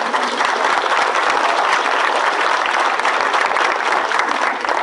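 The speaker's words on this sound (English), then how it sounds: "How about a round of applause for Stephanie?" Dense, steady audience applause at a leadership speaking event, many hands clapping together at a constant loud level for about five seconds.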